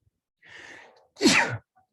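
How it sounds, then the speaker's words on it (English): A single close sneeze: a sharp indrawn breath followed by a loud explosive burst. "of all the times to sneeze"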